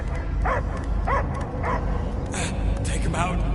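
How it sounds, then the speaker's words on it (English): Dog barking in a PS5 video game, several short barks and whimpering yelps spread across the moment over a steady game background hum. "I hear only barking."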